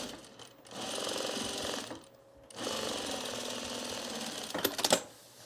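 A sewing machine stitches binding onto a homemade travel bag, a steady mechanical whir running in two long bursts with a brief pause between, ending in a few sharp clicks.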